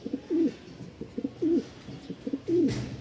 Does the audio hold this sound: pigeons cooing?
yes